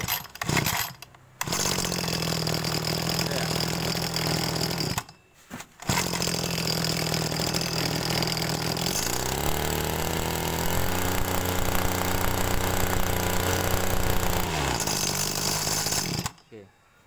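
The engine of a TU26 small two-stroke unit runs steadily after its carburetor has been adjusted, a loud, buzzing drone that holds its pitch for several seconds at a time. It briefly cuts out twice, and a voice talks over it.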